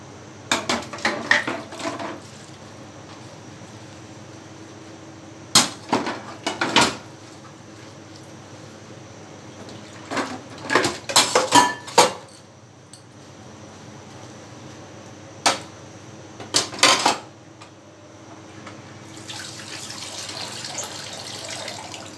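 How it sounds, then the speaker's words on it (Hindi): Dishes are washed in a home kitchen, with scattered clanks and clatters of utensils and pans. Toward the end a steady hiss of running tap water comes in. "मैं बर्तन धो लेती हूँ जाकर"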